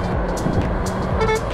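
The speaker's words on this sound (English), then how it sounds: "Get a lorry to honk." A lorry horn toots from the roadside over steady road and wind rumble, a brief honk near the end of a short stretch of traffic noise.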